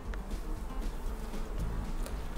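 Honeybees swarm and buzz close by at an open hive, a steady, dense insect hum with no voices over it.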